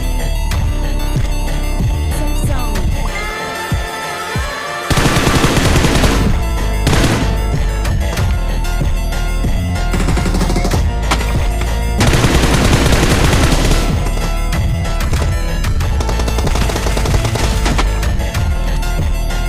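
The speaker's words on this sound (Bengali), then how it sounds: "কটা এনিমি ফায়ার দিল" Gunfire in the mobile battle royale game PUBG Mobile, loud sustained automatic bursts and rapid shots that come and go in repeated volleys over a busy game soundscape.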